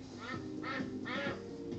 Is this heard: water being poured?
no